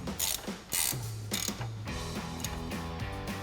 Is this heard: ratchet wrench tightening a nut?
yes